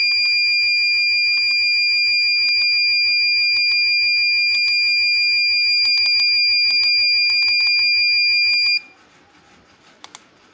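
A loud, shrill PPI humidity controller alarm tone sounds continuously with repeated beeps, then cuts off abruptly near the end, leaving a few faint clicks.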